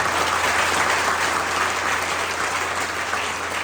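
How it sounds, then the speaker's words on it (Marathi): Sustained audience applause at a kirtan held at Tiger Career Academy, a dense, steady wash of clapping that stays loud and even throughout. "दादांकडे इथं सर्वांनी टाळ्या वाजवल्या."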